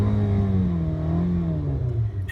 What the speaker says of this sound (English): Let me give you a little bit of exhaust note here.